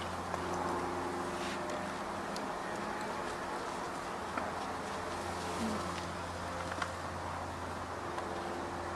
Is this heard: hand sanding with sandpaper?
no